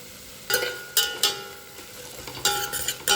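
Ginger garlic paste frying in a little oil, a low sizzle broken by several sharp spoon-on-pan clacks and stirring scrapes in an irregular rhythm.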